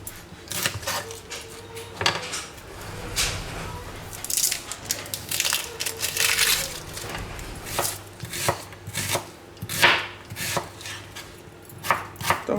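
Green chillies being finely chopped for pakora batter, rapid irregular knife taps on a board mixed with clattering utensils and a brief murmur of voices.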